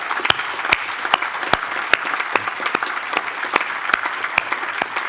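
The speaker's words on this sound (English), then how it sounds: "So please, big applause to all the team supporters." An audience at a UN conference on multilateralism claps steadily for the support team, with dense, sustained applause and sharp individual claps standing out close by.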